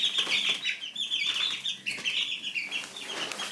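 Chickens cluck and chatter continuously up close, a busy flock making bright, overlapping calls with no one speaking.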